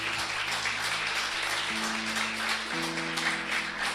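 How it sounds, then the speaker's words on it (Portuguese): A church congregation applauds to welcome visitors: soft, even clapping from many people, fairly distant, running under sustained keyboard or organ chords that shift pitch partway through. "Vamos aplaudir."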